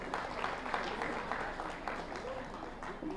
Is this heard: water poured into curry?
no